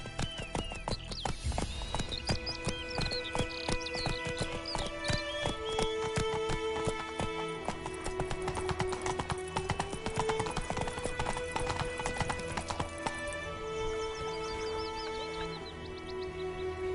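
Roach, Geralt's horse in The Witcher 3, trotting along with steady rhythmic hoof clops over game music, with a snort or whinny and faint birdsong in the background.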